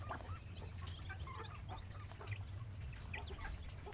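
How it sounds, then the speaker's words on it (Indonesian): Six newly hatched Muscovy ducklings, faint high chirps and peeps scattered throughout, quiet and close, with no talk. "Ada 6 anakan entok ya yang sudah menetas ini ya."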